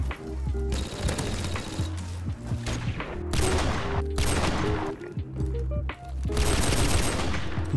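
Rapid bursts of suppressed automatic fire from a gold P90 in Modern Warfare Remastered, loud and close, in several long strings separated by short pauses.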